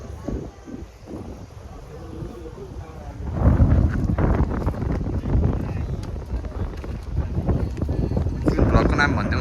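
Wind buffets the microphone outdoors on a ride, a loud continuous rumbling roar that swells and persists, with a person talking over it.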